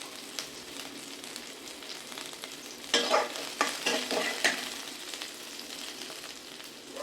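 Dried red chillies sizzle steadily in a pan while a spatula stirs them, with a cluster of louder scraping strokes in the middle and no voices.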